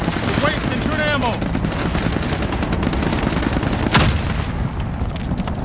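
Automatic gunfire and booming shots from the first-person shooter Call of Duty: Modern Warfare, dense and continuous throughout with a sharper blast near the end, under shouted in-game voices.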